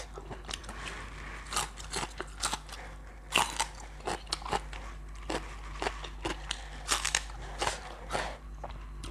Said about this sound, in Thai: เนื้อนะมันก็มีความเหนียวเนาะ ต้องชิ้นเล็กๆ ชิ้นใหญ่มันเคี้ยวลำบาก